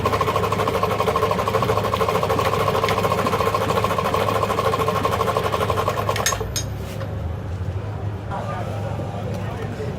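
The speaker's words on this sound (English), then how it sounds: "So I'm going to sew this on my machine." A home sewing machine stitching a slipper, a steady fast mechanical whirr with a rhythmic stitching rattle that runs loud and continuous for about six seconds, then stops, leaving a lower background hum.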